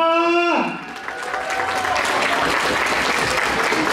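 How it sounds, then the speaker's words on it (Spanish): A room of guests at a birthday party bursts into applause for the birthday girl. The clapping starts right after a short sung or spoken phrase and keeps on as a dense, lively patter for several seconds. "¿dónde está el aplauso para la festejada?"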